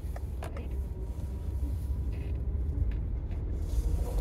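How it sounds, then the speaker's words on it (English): A big old lorry passes on a road, a low steady rumble with some higher rattles, fairly loud and continuous with no talking. "Oh, a big old lorry."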